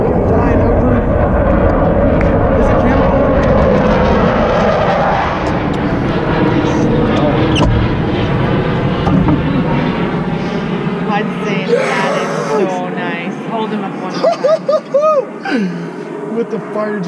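Jet aircraft passing overhead during a Florida fishing trip, a loud sustained broadband roar that fills the first half and slowly fades, with people talking and shouting over it near the boat.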